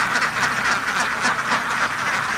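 A flock of farm ducks quacking in flooded rice fields after harvest, many overlapping calls in a busy continuous chorus, fairly close and loud.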